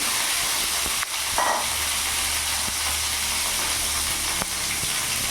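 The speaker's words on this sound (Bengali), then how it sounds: "ওই জন্য বেগুনগুলো আমি ভেজে নেব।" Eggplant slices frying in mustard oil in a pan, a steady close hiss and sizzle running unbroken throughout, with a few faint clinks and stirring knocks.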